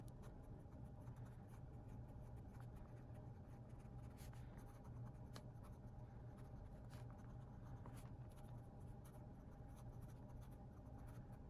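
A Lamy Safari fountain pen in blue macaroon, inked with Lamy Tourmaline, scratches steadily across paper, the nib's soft continuous scraping broken by small taps and strokes, close and quiet with no voices.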